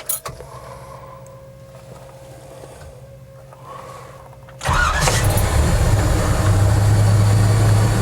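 An electric fuel pump built into a custom fuel tank on a Scout primes with a faint, steady whine for several seconds, then the engine starts and a loud, continuous rumble takes over.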